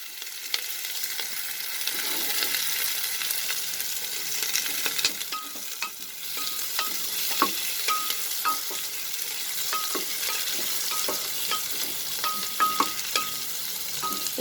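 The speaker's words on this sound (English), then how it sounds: "We'll saute this." Onions sautéing in a pressure cooker for chicken pulao, a steady close sizzle with scattered light scrapes and clinks of stirring running throughout, no voices.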